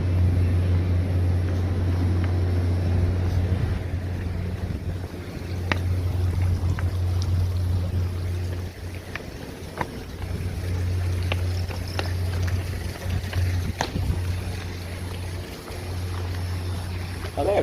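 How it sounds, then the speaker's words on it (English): Generators roar steadily in a parking lot beside a conference hotel during a power outage, a loud continuous low drone with occasional faint knocks and clatter. "I can hear the generators like crazy now"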